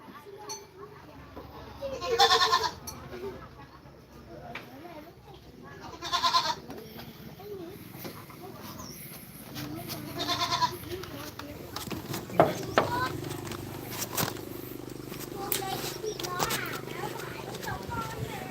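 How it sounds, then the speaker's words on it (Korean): Goats bleating on a rural Vietnamese farm where some forty are raised on free-range hillside pasture, several loud bleats in bursts spaced a few seconds apart, with people talking throughout and other rustling farm sounds. "여기 이렇게 올라가면은 염소가 이렇게 있는데 한 40마리 정도 키우고 계시다"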